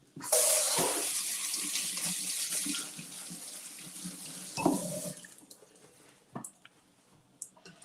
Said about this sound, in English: All right, so let's give these a rinse.